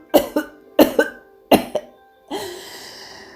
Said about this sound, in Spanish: tosiendo